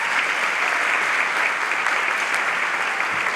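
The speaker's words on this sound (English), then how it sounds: "give him a big round of applause" Sustained applause from an audience at a ribbon-cutting and grand opening ceremony for a college performing arts center, steady, dense and fairly loud with no voices over it.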